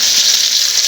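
Chopped onion hits a hot pan for pasta and gives a loud, brief burst of sizzling hiss that holds steady for under a second.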